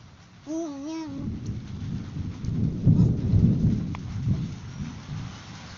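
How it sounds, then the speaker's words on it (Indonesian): Heavy rain pours steadily while a deep rumble of thunder rolls through the middle, loud and close, after a brief warbling tone at the start. "ini hujannya deras banget"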